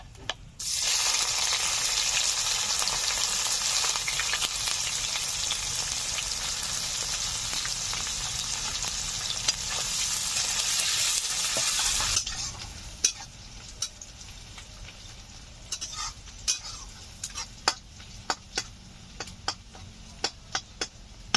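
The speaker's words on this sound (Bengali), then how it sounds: "পেঁয়াজ হালকা ব্রাউন কালার করে ভেজে নিয়েছি" Chopped onions frying in a pan for a village-style chicken and potato curry, loud steady sizzling for about twelve seconds, then a quieter crackle with scattered clicks of stirring.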